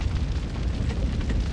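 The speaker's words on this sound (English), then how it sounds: "I wish the rides wouldn't explode" A roller coaster ride explodes in RollerCoaster Tycoon 3 with a loud, continuous, rumbling blast of crackling noise that lasts a second or two.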